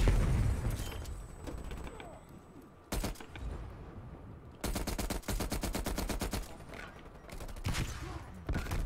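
M60 machine gun fire in Call of Duty Black Ops Cold War Team Deathmatch on Nuketown, loud sustained automatic bursts separated by short pauses, with game effects underneath.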